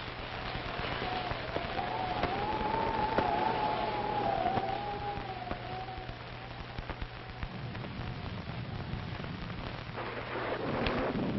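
Steady rain pours throughout with low rumbles of thunder, while a wavering siren-like tone drifts faintly in the background.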